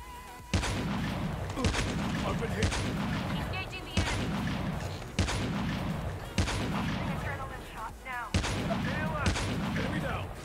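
Gunfire in the mobile shooter game Call of Duty Mobile: loud, sharp reports at irregular intervals of roughly one to two seconds, with in-game sound effects in between.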